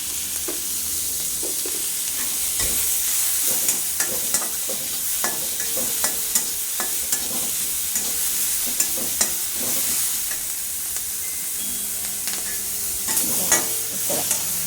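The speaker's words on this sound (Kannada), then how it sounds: "ಚೆನ್ನಾಗಿ ಫ್ರೈ ಮಾಡ್ಕೊಳ್ಳಿ." Poha frying in a pan is stirred repeatedly, irregular scraping and clacking strokes of the spoon over a soft, steady sizzle, close and clear, with no one talking.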